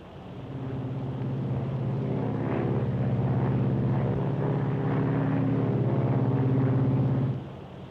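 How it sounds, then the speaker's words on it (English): Inside a Martin Silver Falcon propeller airliner in flight, a steady low, throbbing engine drone fills the cabin, loud and continuous, easing slightly at the very end. "It's a wonderful airplane, that Silver Falcon."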